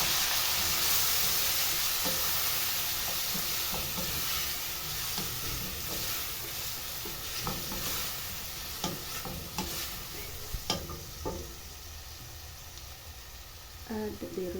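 Tomatoes and capsicum go into a pot of Kenyan arrowroot (nduma) stew, giving a steady broad sizzle with occasional spoon stirs and scrapes, all fairly close.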